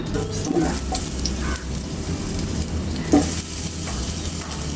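Chopped onion hitting hot rice bran oil, a steady close sizzle with stirring scrapes and a sharper spatter about three seconds in.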